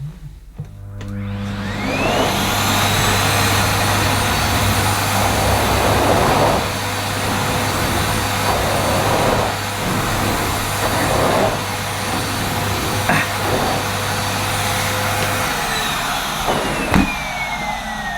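Miele C1 Classic Powerline cylinder vacuum cleaner on its carpet setting, one notch below maximum suction, drones loudly and steadily over living-room carpet, its whine swelling and dipping with each push and pull stroke before cutting off near the end.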